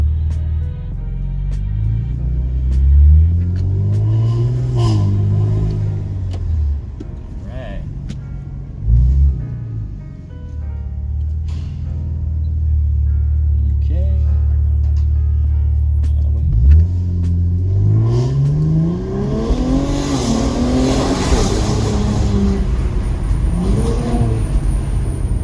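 A retuned twin-turbo Infiniti Q60 accelerates hard through traffic, its engine rumble rising and falling through gear pulls, loud and close, with a voice talking over parts of the run.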